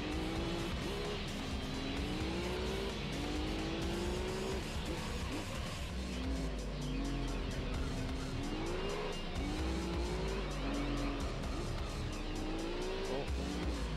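Race cars in Gran Turismo 3 (an LMP race) roar steadily for the whole stretch, engine pitch climbing and dropping through gear shifts, with tire squeal and cars passing close by, loud and continuous with no talking.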